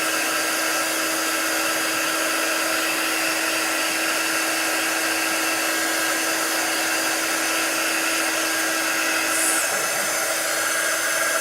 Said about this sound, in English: Let's use our quick dry tool here.